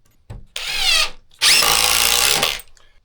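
A DeWalt XR impact driver drives a screw in two close, loud bursts, the second longer, with high whirring motor whine and rapid hammering between brief pauses.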